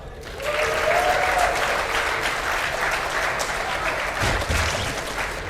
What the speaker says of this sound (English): Both players actually getting a really good amount of cheering